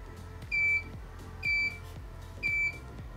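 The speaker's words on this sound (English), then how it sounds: "we had our 3 beeps, which means it's settled" Three short, identical electronic beeps from a GHL Profilux P4 aquarium controller during calcium reactor tuning, spaced about a second apart over a low background hum.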